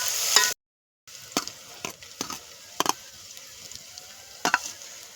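Chillies fry in hot oil for a Gujarati vadharela bhat (tempered rice), giving a soft sizzle with intermittent sharp crackles and stirring clicks, broken briefly by a moment of silence.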